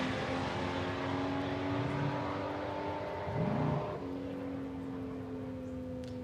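Volkswagen Golf and Ford Cortina drag racing side by side at Palmyra Raceway, engines droning steadily with a rising rev surge midway before settling, a continuous loud mechanical roar.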